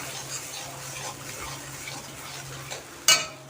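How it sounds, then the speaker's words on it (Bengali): Mustard and poppy seed paste being gently stirred in a pan for a Bengali parshe fish curry, a soft sizzle with light scraping, ending in a sudden sharp clink of utensil on metal. "আমি একদম হালকা করে একটু নাড়িয়ে চাড়িয়ে নেব"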